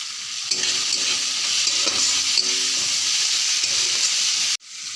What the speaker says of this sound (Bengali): আর একটু জল অ্যাড করে মশলাগুলো আরেকবার কষায় নেব।